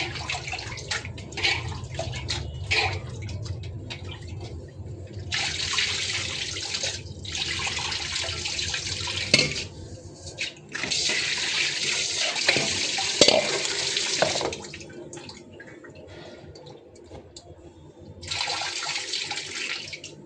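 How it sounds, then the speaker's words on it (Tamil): Tap water runs in loud bursts while fish pieces are rinsed, stopping and starting several times with splashing and handling between the streams. "அதனால் கடைசியாக ஒரு தடவை கழுவிக்கலாம்."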